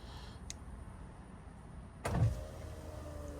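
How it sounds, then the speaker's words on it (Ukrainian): Front power windows on an Opel Vectra C run with a brief motor whir and a soft thump as the glass seats, preceded by a quiet click in an otherwise hushed car interior. "Склопідйомники, передні працюють, задні, задні ні"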